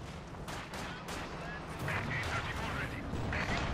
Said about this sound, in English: We've got mortars just firing away there